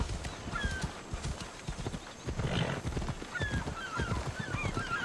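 Rhythmic hoof clip-clop of a horse being ridden in the video game Assassin's Creed Odyssey, with a whinny and scattered chirps over a continuous outdoor ambience, moderately close.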